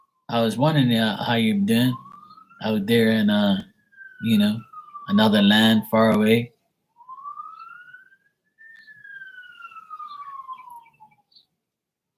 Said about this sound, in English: That's the fire truck because I just heard the horn.